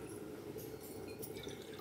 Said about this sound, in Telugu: నానబెట్టినాయి కదా, ఇప్పుడు వాటర్ పోసుకుంటున్నాను.